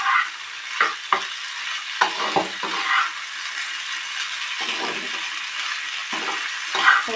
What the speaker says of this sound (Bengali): মশলাটাও কষা হবে, পেঁয়াজ কলিটা মটরশুঁটিটা ফ্রাই হবে।